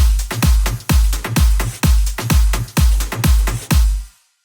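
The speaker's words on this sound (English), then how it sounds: "With the rest of the percussion sounds like this." A punchy big room electro house drum loop with deep kicks, hi-hats and snappy hits in a steady groove, playing alone and ending in a brief decaying tail.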